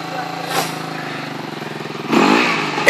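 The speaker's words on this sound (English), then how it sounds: "Extreme enduro riding going on here." An enduro motorcycle on an extreme enduro ride in Wales runs steadily under people talking, then its engine note swells and rises near the end.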